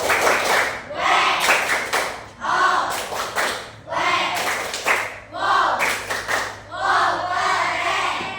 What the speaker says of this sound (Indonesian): Kita tepuk dulu, kasih apresiasi. Tepuk wow.